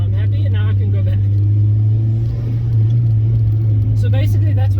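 Turbocharged Mazda Miata with a broken turbo, accelerating with a deep, steady engine drone heard from inside the car, as power seems to drop off; someone talks over it throughout.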